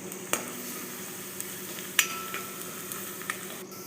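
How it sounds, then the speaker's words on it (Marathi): Onion fries with ginger garlic paste in a pan for a tomato curry, giving a steady close sizzle broken by occasional sharp clinks of a spoon stirring. "अद्रक लसूणचा पेस्ट घ्यावे आणि कांदा लाल होईस्तर छान व्यवस्थित भाजून घ्यावे"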